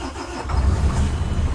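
Diesel engine of a high-mileage MAN truck turning over and catching, a heavy low rumble building into a steady running note.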